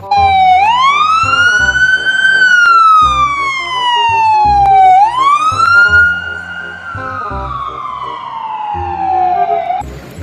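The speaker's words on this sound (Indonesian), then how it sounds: "mobil ambulan" A toy ambulance siren wails loudly and close in two long rising-and-falling sweeps, with faint clicking and rattling underneath.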